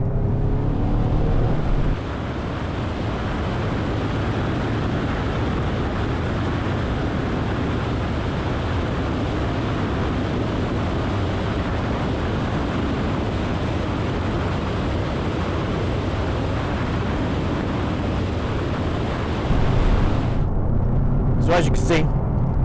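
Ford Mustang EcoBoost pulling hard at full throttle, a loud sustained engine roar over about twenty seconds of continuous acceleration, with a louder burst near the end.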